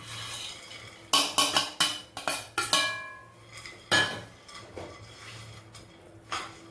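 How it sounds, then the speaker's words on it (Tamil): Nuts being stirred in a metal pan for a dry fruits roll, a quick series of sharp clinking scrapes and rattles from a spoon against the pan, then a few scattered knocks, close and loud with no talking. "அப்படியே கிண்டிடுவோம்."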